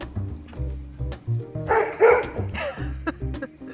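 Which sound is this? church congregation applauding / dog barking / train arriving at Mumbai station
dog barking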